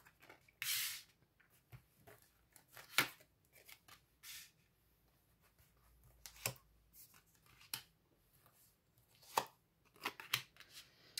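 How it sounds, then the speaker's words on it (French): Tarot cards spread out across a table with a hop, giving a series of quick papery swishes and soft slaps, close and fairly quiet, with short gaps between. "Alors, je vais étaler les cartes."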